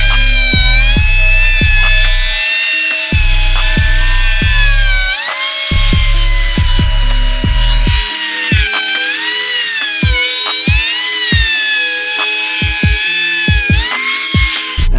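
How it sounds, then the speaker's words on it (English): A high-pitched electric router whines loudly and continuously while cutting holes in wood speaker rings for a Chevy single cab truck panel, its pitch dipping and recovering as the bit bites, with a series of sharp knocks underneath. "it's just a matter of plugging the router in and routing out these holes"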